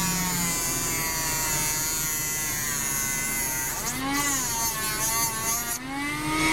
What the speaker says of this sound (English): now with the Dremel, I'm going to come in here in the back side and put a little dish behind him.